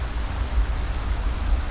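Rain falls in a video game as a steady, dense hiss of droplets with a low rumbling undertone, even and continuous with no voices.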